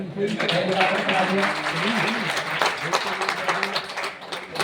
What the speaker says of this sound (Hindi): इसलिए एक बार ताली बजाएंगे।